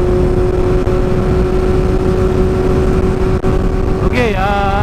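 A Kawasaki Z800 motorcycle cruises along a highway with a loud, steady engine drone and heavy wind rush, its pitch rising as the bike accelerates near the end.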